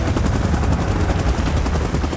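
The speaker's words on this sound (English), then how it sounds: "Chopper in position." A helicopter in a Kong and Godzilla versus Mechazilla battle scene gives a loud, steady, thumping rotor roar, close and dense throughout, with no voices.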